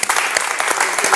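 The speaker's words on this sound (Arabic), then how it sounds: "تصفيق عليكم، برافو" An audience claps in a brief, dense burst of applause, loud and close.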